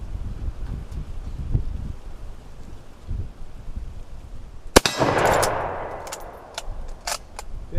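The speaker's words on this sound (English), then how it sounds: "The wind is just absolutely brutal today. So I do hope that the wind noise is not drastically terrible." Strong outdoor wind buffets the microphone as a steady low rumble throughout, with a few sharp metallic clangs and brief bursts cutting through near the end.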